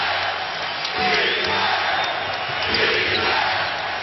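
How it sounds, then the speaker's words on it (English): Basketball arena crowd at the 2012 NBA Finals, Oklahoma City versus Miami, roars as the first half winds down, a dense, sustained wall of cheering voices, loud and steady with brief swells. "Crowd on its feet as we wind down the half."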